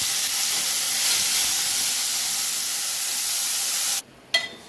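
Freshly washed mint leaves fry in a pan for pudina rice, giving a steady, loud sizzling hiss for about four seconds before it cuts off, followed by a brief scrape.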